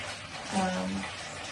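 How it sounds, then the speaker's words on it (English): Water runs steadily from a tap into a filling bathtub, a continuous broadband rush at moderate level with a brief faint tonal murmur over it. "My bath is running because I want to relax."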